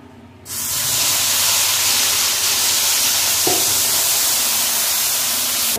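A loud, steady sizzle and hiss of ginger, garlic, onion, green chilli and tomato paste hitting hot oil, starting abruptly and continuing without pause, with a faint clink partway through.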